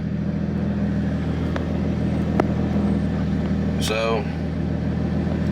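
A 2JZ-swapped Nissan S14 idles with a deep, steady engine drone, a few short clicks from the push-button start and switches standing out, while someone speaks briefly.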